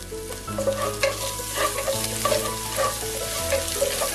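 Green chillies fry in a pan for a chicken thoran, a continuous close sizzle broken by repeated scraping stirs of a spoon against the pan, with no talk.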